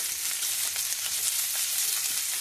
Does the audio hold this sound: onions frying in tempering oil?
yes